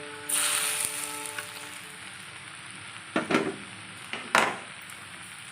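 Curry leaves and cumin hit hot oil in a pan, a bright sizzle flaring up right away and then holding steady, with a few sharp crackling bursts and stirring knocks near the end.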